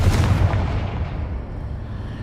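A Confringo spell explosion in the video game Hogwarts Legacy, cast to blast a pillar blocking the path: a loud, close, rumbling boom that decays into a long low roar.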